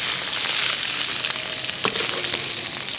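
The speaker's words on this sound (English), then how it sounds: "we have the shrimp in the pan now" Shrimp fry in a super hot pan, with a loud, continuous crackling sizzle close up and occasional light clatter of stirring, with no voices.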